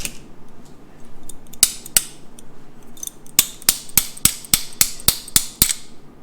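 Sharp metallic hammer blows ring out, two isolated strikes followed by a steady run of about nine evenly spaced hits, loud and close.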